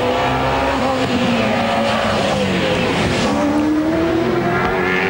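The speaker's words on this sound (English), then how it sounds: "Brock now braking hard for Forest Elbow" Holden Commodore race cars at the Bathurst 1000 braking into Forest Elbow, engine drone shifting pitch as they slow and downshift, with a faint tyre squeal, loud and continuous throughout.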